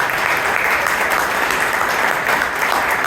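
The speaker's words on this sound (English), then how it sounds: "I think she deserves a loud round of applause" An audience at a Toastmasters club meeting in Bangalore gives loud, continuous applause, dense even clapping that fills the whole stretch, close and steady.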